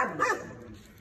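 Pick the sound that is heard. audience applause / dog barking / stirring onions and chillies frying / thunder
dog barking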